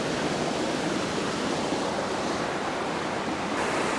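Water flows steadily at an outdoor landscape spot, a dense, constant rushing wash that fills the whole stretch without a break.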